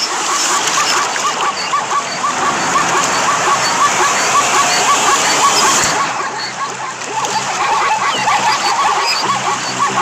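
Zebras leaping into and splashing across a crocodile-filled African river, a steady dense wash of splashing and rushing water that briefly dips partway through, with faint voices beneath.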